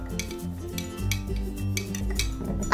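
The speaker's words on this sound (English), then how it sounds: "Okay, Sunny stir it." A spoon stirs blue and yellow colour mixed in a cup during a kids' colour-mixing experiment, giving light repeated clinks and taps over steady background music.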